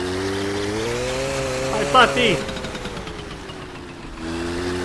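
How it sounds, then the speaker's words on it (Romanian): A car engine revs hard in the game My Summer Car while drifting, a buzzing, rising-and-falling whine held throughout, with a brief shout from a voice over it midway. "Mamă, facem drift cu motorul."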